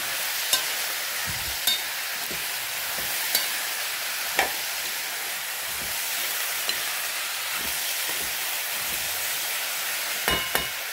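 Food is stirred and mixed in a pan over a constant loud sizzle, with sharp scrapes and taps from the utensil recurring every second or two.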